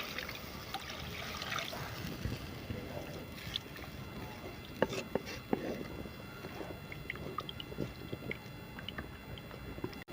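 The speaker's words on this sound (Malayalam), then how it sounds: "നമുക്ക് കുറച്ച് വെള്ളം കൂടി ഒഴിച്ചു കൊടുക്കാം." Water is poured into a boiling fish curry masala in a pan, a faint trickling and bubbling with soft clatters, quiet and close throughout.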